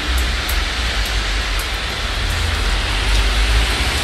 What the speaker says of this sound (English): Very cloudy, rainy.